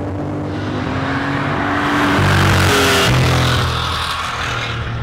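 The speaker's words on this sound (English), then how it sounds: "You start the motor up and this roar just starts to happen." Porsche 2.7 RS engine roaring: a loud, steady mechanical drone that swells through revs to a peak midway, then eases back, close and alone.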